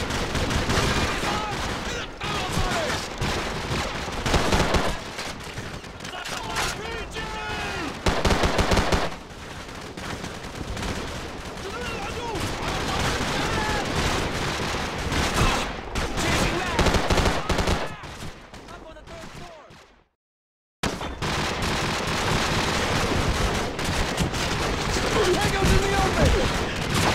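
Sustained automatic gunfire and bursts from Call of Duty: Modern Warfare, loud and dense nearly throughout, with shouted voices mixed in and a brief dropout near the end before the firing resumes.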